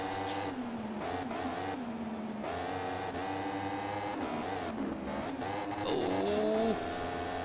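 A racing motorcycle engine in MotoGP 15 screams continuously, its pitch rising and falling through gear changes and corners, with a sharp high rev burst near the end, loud and steady, no voices.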